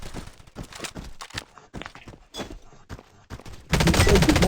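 A pump shotgun firing in the video game Warface: sharp, separate blasts spaced irregularly across a few seconds, then a louder sustained burst of noise at the end, with no talk.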